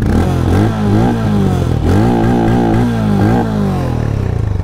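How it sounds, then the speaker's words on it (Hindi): A Hero Mavrick 440 motorcycle exhaust burbles at idle, then revs up sharply several times in quick blips, loud and close, with no talking. "एग्जॉस्ट नोट आपको सबसे पहले मैं सुना देता हूँ किसका एग्जॉस्ट कैसा है एग्जॉस्ट सुनिए"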